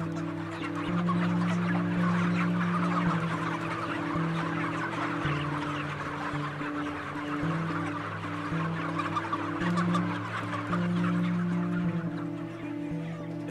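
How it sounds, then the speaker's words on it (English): A crowd of chickens clucks and squawks continuously while being caught by hand for transport cages, a loud, dense chorus over steady low mechanical hum, with no talking. "they'll take eight chickens by their legs and throw them in the cages for transport"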